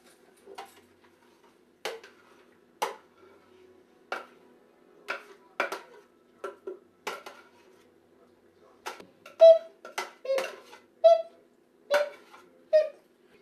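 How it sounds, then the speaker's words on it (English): A utensil scrapes and taps against a baking dish as mashed potatoes are spread over meat for shepherd's pie. The clicks are sharp, scattered and close, with quiet gaps between them. "we're going to take the mashed potatoes and put them on top of the meat"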